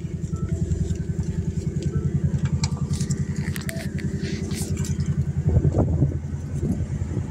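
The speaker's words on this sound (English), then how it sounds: "Very robust sounding engine." A Ford Mustang GT V8 idles with a steady, deep rumble and a low throbbing pulse, close and loud throughout, swelling briefly near the end as if blipped, with no talking over it.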